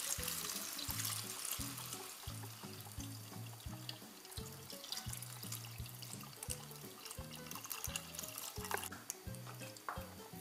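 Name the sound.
pouring chicken stock into lentil soup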